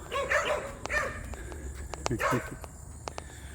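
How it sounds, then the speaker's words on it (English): Small dogs bark in quick yappy bursts outdoors, two clusters of high-pitched yips with sharp clicks and ambient noise between. "this house up here has a couple of little yappy dogs in the backyard"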